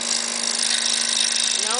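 A scroll saw cutting a wooden reindeer ornament: a loud, continuous buzzing motor hum with a rapid blade chatter, steady throughout without pause.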